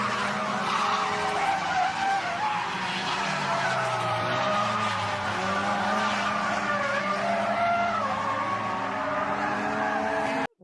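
A drifting car in a street and track setting skids loudly and continuously, with steady tyre squeal over a droning engine, closing in a spin before cutting off abruptly.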